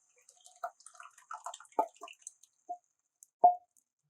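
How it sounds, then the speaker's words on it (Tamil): Cooked, mashed dal water is poured into a pan of spinach, making close wet drips, plops and splashes in an uneven run, followed by one louder plop. "நம்ம ஏற்கனவே வேக வச்சு கடைஞ்சி வச்சிருக்கிற பருப்பு தண்ணி இது கூட ஆட் பண்ணிக்க போகிறோம்"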